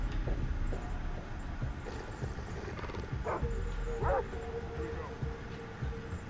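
A dog barks and yips in short repeated bursts at an enemy outpost in the video game Far Cry 3, moderately loud amid game ambience, with someone talking over it.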